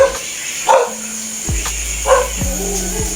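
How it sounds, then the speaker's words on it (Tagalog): Pet dogs bark in a few sharp, separate yaps spread across a short stretch, fairly close, with a faint whimper and some background noise during a home-service haircut. "yung mga alaga nilang mga aso"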